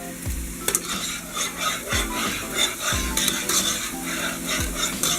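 Vegetables sautéing in a pan for a coconut curry fish stew, a steady close sizzle with a utensil stirring and scraping the pan in a regular rhythm about once a second.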